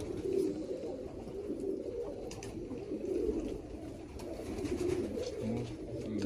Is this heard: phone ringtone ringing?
no